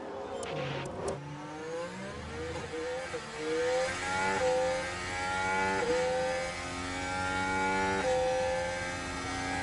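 Formula 1 race cars in F1 Manager 23 launching off the grid at Sakhir, a steady high whining engine note rising in pitch through the gears, several cars blended together at moderate volume with no talking.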